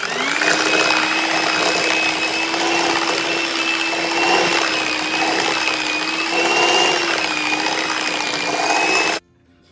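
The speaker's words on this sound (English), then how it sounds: "Going to mix all these together until they're well blended." An electric mixer whirs steadily at a constant high pitch, loud and close, while blending vanilla extract, extra large eggs and box cake mix into a thick carrot cake cookie batter, then cuts off abruptly at the end.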